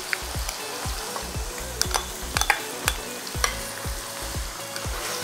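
Chicken fried in a pan with garlic and ginger, a continuous sizzle broken by regular rhythmic scraping strokes of a spoon stirring the pieces, close and even, with no talk.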